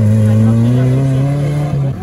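An off-road trophy-sprint car with a failing clutch labors nearby at the Astrakhan round of a regional trophy-sprint cup. Its engine drones loud and steady as it climbs slowly in pitch, then briefly drops near the end.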